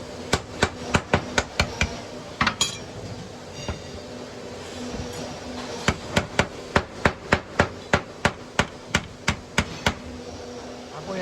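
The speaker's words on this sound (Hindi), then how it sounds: "देखिए यहाँ से फिर बेलेट हैमर से आप ठोक लोगे इसको" A mallet drives a seal into a hydraulic cylinder in a workshop: a long series of sharp, evenly spaced metallic blows, loud and close, with a short pause before a second steady run of strikes.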